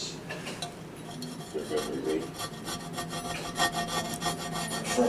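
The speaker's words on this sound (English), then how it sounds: "I could scrape it off" Scraping window tint off a car's passenger or rear window glass, a steady rasping rub with repeated strokes, close and fairly loud throughout, no talking.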